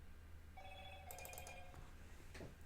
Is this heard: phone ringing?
yes